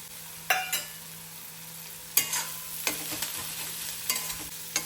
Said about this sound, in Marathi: चांगला कांदा आणि मिरची आणि लसूण परतत आहे